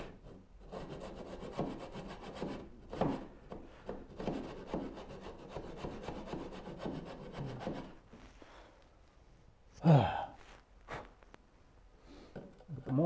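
Hand saw cutting wood for a Moxon vise joint, a run of close, rhythmic rasping strokes that stops partway through, followed by quieter handling sounds and a voice.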